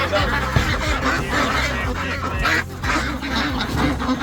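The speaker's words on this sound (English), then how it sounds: "Now I do have some ducks that I tended to that are in an A-frame tractor" Several ducks kept in an A-frame tractor during hurricane rain quack and honk continuously and fairly close, their calls overlapping in a busy chorus.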